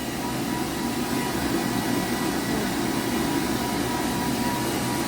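A hair dryer runs steadily while drying hair in a salon parlour, giving a loud, constant whooshing blow with no breaks and no talk.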